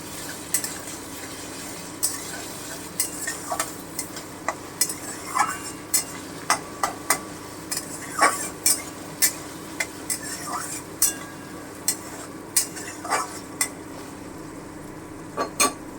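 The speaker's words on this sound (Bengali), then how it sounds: "আমি আদা বাটা দিয়ে দিলাম এক চামচ একটু নেড়ে নিচ্ছি" A spoon stirs ginger paste in a frying pan with chopped green chilli, for a vegetarian chhana curry. Light scrapes and clinks come every second or so over a steady, moderate sizzle.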